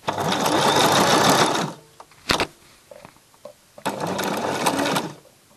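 Sewing machine stitching a straight line on fabric for a kameez: two steady, fast runs of mechanical whirring with clicks and handling noises in the pause between, close and loud.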